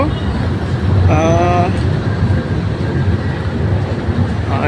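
A Bangkok metro train rumbles steadily with broadband noise, and a brief high whine or chime rises partway through; no talk is heard.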